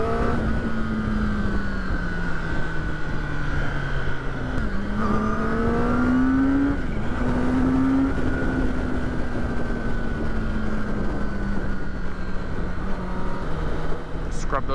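A sport bike engine on the road as the rider rolls on and off the throttle, its tone rising and dipping in steady waves over continuous wind and road noise, loud and close throughout.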